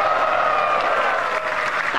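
Crowd applause at a Fliptop rap battle, a dense, steady wash of clapping and crowd noise that holds at an even, loud level for two seconds.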